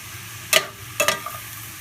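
Ground beef sautéing in a pan for Filipino-style beef with green beans, with a soft sizzle and a couple of quick scraping stirs.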